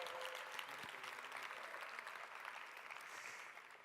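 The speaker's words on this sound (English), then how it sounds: "Round of applause for Lauren" Audience applause at the Synapse Summit 2019 as a speaker thanks Lauren at the close, a steady dense wash of clapping that carries evenly through, slowly tapering toward the end.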